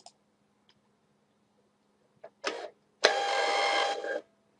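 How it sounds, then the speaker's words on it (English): Brother thermal label printer printing a label: a couple of short clicks, a brief whirring burst, then a steady, fairly loud mechanical feed and print run lasting just over a second before stopping. "if you watch the webcam screen that I have kind of showing on this page as well, you'll be able to see the printer at work"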